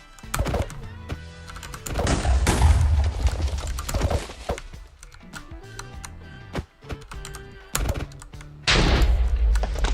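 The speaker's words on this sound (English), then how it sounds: "Summon fireball." Summoned fireballs bursting in Minecraft during custom map-making, a rapid string of sharp explosive bangs and crackles, loud and clustered, with short gaps between bursts.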